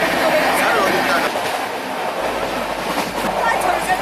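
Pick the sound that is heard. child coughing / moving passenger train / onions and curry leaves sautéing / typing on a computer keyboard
moving passenger train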